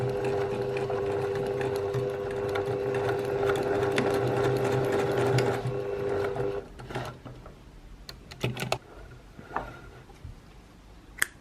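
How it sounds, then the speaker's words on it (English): A sewing machine stitching a diagonal seam on a bias-cut dress runs steadily and close for about six seconds, then stops, followed by a few faint clicks and handling sounds. "we're going to sew from that corner to that corner on a diagonal"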